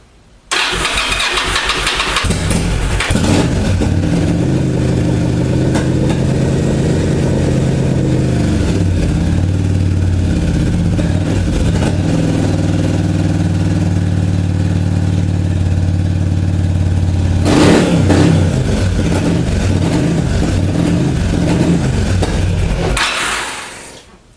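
An old engine that had sat unused for six years starts and runs loud and close for about twenty seconds, with revving swells and an uneven idle before it cuts off abruptly.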